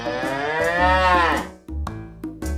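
Cows moo as a read-aloud sound effect: one long, loud, harmonically rich moo swells and fades, followed by several shorter low bellows and knocks close by.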